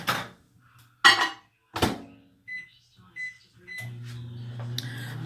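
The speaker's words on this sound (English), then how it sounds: "I can put it in the microwave and, you know, pop it on" Microwave oven in a home kitchen, melting lip gloss ingredients, heard as a few sharp clacks and taps of the door and buttons, short beeps, then a low steady hum as the oven starts running.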